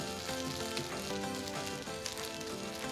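Rice coated in curry powder fries in a pan for a chana curry, giving a steady, close, crackling sizzle that runs unbroken throughout with no voices.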